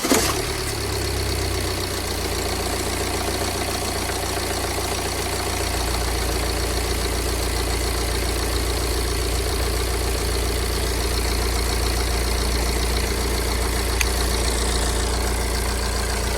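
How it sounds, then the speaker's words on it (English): A BMW E90 engine idles steadily after an air intake breather pipe change, a continuous even hum with a low rumble that settles slightly after the first few seconds, with no talk. "So let's give the engine a go."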